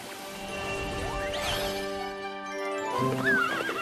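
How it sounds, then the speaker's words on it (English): A horse whinnies loudly with a rising and falling call, then neighs again near the end, over a dense background of clattering hoof and movement noise. "I see a horse!"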